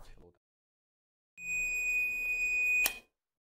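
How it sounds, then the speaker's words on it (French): A multimeter continuity check gives a single steady electronic beep for about a second and a half, clear and close, ending with a brief click. "le multimètre de l'appareil émet un bip"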